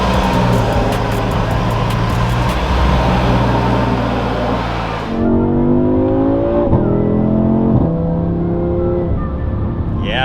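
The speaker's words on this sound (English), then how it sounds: "That is definitely louder with the valve open" An Audi RS3 with its exhaust valve open accelerates on the road, the loud engine and exhaust note rising through gear changes from near and steady throughout.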